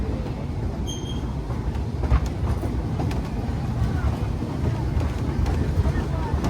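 A steady, loud rumble of the Disneyland Railroad train rolling along its rails at Disneyland continues without a break, with faint talking mixed into the noise.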